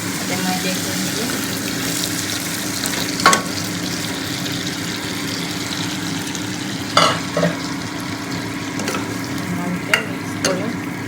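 Onion, ginger and garlic masala fries in a pan with a steady low sizzle and a few louder scraping stirs, close by and without speech.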